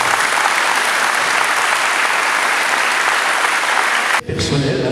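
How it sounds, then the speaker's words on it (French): An audience applauds steadily at a charity cheque presentation in Algrange, a dense unbroken wash of clapping that stops abruptly near the end, leaving quieter room noise. "je pense qu'on peut les applaudir vraiment très bien."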